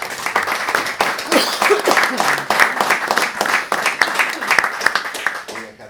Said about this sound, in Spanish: ya que me aplaudieron y me estimularon